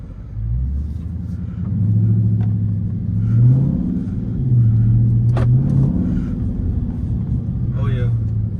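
A Dodge Scat Pack with its mid muffler deleted idles and rumbles with a deep, steady exhaust note, swelling briefly as the engine is blipped, heard close from inside the car.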